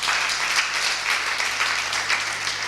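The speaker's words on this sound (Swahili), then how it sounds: "Jameni, simupigia wazee makofi." A church congregation claps for its elders, producing dense, continuous applause with many hands at once that holds steady and loud throughout.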